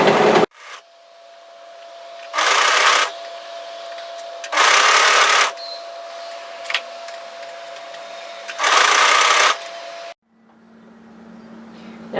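A sewing machine stitches a collar through five layers of fabric for a raglan top. It runs in three short bursts, close and fairly loud, separated by quiet pauses over a faint background hum.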